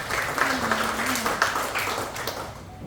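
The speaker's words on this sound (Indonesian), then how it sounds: "Berikan tepuk tangan sama mereka Tuhan." Church congregation clapping during an Ascension Day worship service, a steady moderate applause lasting throughout with a faint hum underneath, no talk over it.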